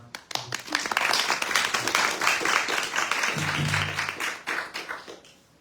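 An audience at an evening Harikatha gathering in Seattle claps for the host, a dense, fairly loud patter of many hands that swells and then fades. A voice briefly sounds partway through.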